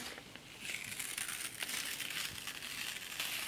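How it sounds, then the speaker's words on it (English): A clear plastic carrier sheet is peeled off heat transfer vinyl pressed onto a shirt fabric, giving a steady close crinkling, crackling rustle that runs almost continuously for a few seconds with no talk. "And then just peel back the carrier sheet."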